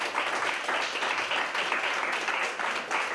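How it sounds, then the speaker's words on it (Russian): Audience applause at a Euro Games winners ceremony for taekwondo and shooting, dense crowd clapping swelling and pulsing gently at a fairly loud, steady level, with no talk over it. "Ну что ж, эти аплодисменты вам!"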